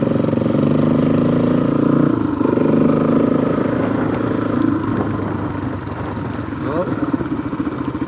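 Motorcycle riding along a green lane, its engine note steady and close with rough clattering over uneven ground, while people talk over it throughout.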